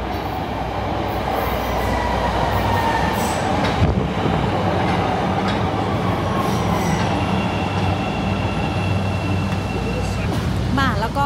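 A Chicago subway train rumbles steadily throughout, with a constant loud roar and occasional faint squeals of wheels on rails near the end.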